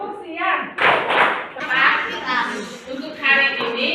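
Children in a classroom do a rhythmic clapping chant, bursts of sharp claps alternating with their voices, led by a teacher.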